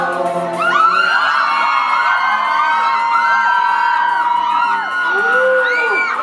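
Excited fans scream and shriek in high, overlapping voices, a loud sustained chorus of squeals rising and falling.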